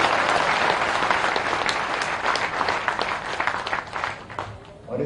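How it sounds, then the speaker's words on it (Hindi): A crowd at a political rally in Bhopal, Madhya Pradesh, breaks into loud, sustained applause, dense clapping that fills the whole stretch and thins slightly toward the end. "मेरी बात से सहमत है तो जोरदार तालियां बजाइए।"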